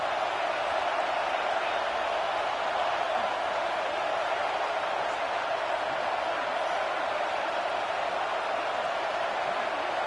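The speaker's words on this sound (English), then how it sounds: "3rd down and the crowd really getting into it." A packed football stadium crowd at an LSU versus Oregon game roars on third down, a dense, steady wall of cheering that holds at an even level for the whole stretch.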